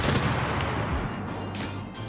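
Gunfire in the video game Cuisine Royale, a dense, loud burst of rapid shots that rings on continuously with no pauses and no talking.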